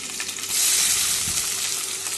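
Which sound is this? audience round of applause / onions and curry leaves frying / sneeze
onions and curry leaves frying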